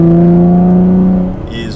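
A 2019 Chevrolet Camaro 1LT RS on a test drive through turns gives a loud, steady droning engine note heard from inside, which eases off and softens near the end.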